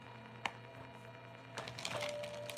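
A deck of tarot cards is shuffled close up: a single sharp snap, then a quieter gap, then a rapid crackling riffle of card edges.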